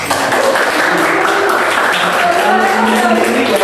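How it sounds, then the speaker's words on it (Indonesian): A small group of students claps for podcast guests, a dense patter of hands that runs steadily under overlapping talk. "Tepuk tangan dong"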